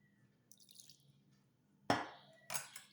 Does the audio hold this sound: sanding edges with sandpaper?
no